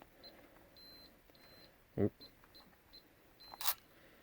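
A Schlage keypad deadbolt struggling in cold weather gives a string of short, high electronic beeps as a code is punched in. The beeps are separated by brief pauses, with a couple of louder clicks or thumps among them.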